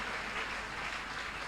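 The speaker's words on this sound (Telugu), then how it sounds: "చేతులు పైకెత్తి గట్టిగా చప్పట్లు కొట్టండి" Applause from a congregation at a church prayer service, a brief, dense, steady wash of many hands clapping heard at a distance.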